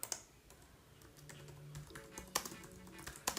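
Typing on a computer keyboard to enter a search keyword, heard up close as a quick, uneven run of light key taps with a few sharper strokes, alone without talk.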